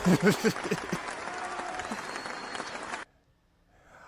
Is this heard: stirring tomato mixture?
no